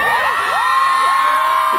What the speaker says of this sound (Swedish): Jag brukar alltid checka vilken stad som skriker högst,